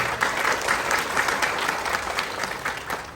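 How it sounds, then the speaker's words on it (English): Indoor audience at a business seminar breaks into sustained applause, dense overlapping clapping held at an even, fairly loud level throughout with no speech over it. "please give a big round of applause to all the Filipinos here"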